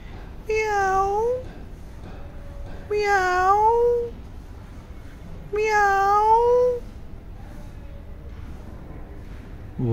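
A cat sitting near a pigeon gives three clear, drawn-out meows at steady intervals, each rising and falling in pitch, close and distinct against a quiet background.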